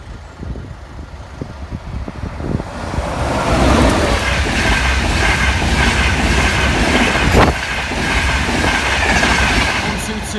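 A passenger train from London King's Cross to Edinburgh Waverley passes a level crossing, its roar rising to a loud, sustained rush of wheels and rail noise with a brief sharp squeal, and no talk.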